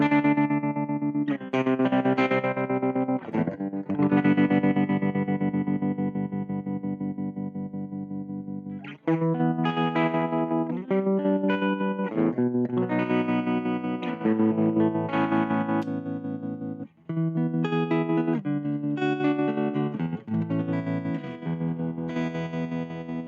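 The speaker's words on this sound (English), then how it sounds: "So let's add some tremolo, for example." Distorted electric guitar through a Harley Benton Airborne Go wireless modeling amp plays chords and riffs with a pulsing, wavering volume from a tremolo effect, loud and continuous with no talking.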